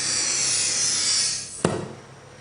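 Glass cutter scoring a sheet of glass for a home project: a steady, close hiss of the wheel running along the surface for about a second and a half, ending in a sharp snap-like click, with no talking.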